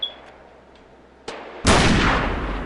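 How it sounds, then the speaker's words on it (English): An M1 Garand rifle fires a single loud, sharp report at an outdoor gun club range, with a decaying tail after it, preceded by a few faint clicks. "This right here is what you call me shooting an M1 Grand."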